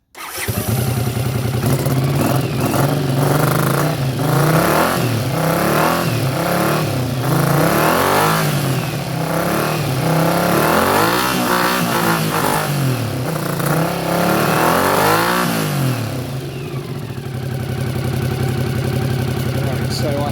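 A 1981 Honda CX500 motorcycle engine starts and revs repeatedly, rising and falling in pitch over a rough idle, loud and close throughout.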